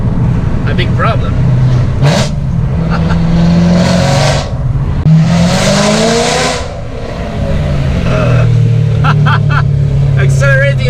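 BMW M3 fitted with an Armytrix exhaust accelerating between buildings, a loud throaty engine climbing through several revving pulls with sharp exhaust bursts echoing off the walls, close and dominant.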